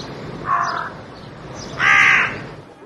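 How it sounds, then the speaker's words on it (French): A carrion crow calls twice, a short harsh caw followed a second later by a longer, louder, rasping caw, standing out clearly against quiet background noise. "La corneille est facile à reconnaître par sa couleur noire ébène et son gloussement rauque."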